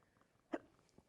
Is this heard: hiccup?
yes